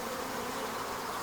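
A dense, steady buzz of honey bees during swarm handling, close and continuous with no other sounds.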